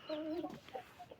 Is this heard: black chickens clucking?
yes